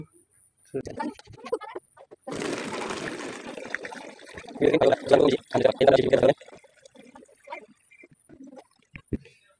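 Cooking oil from a shop is poured into a bottle in a few gurgling, splashing bursts, with speech and handling noises before and after.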